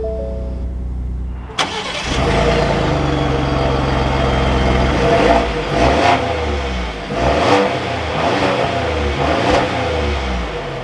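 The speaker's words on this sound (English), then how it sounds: "inside the Tremor, keeping my foot on the brake, we can go ahead and fire it up." A 2021 Ford F-150 Tremor pickup starts with a sharp crank and catch, then settles into a loud, steady idle with a few revs rising and falling close by.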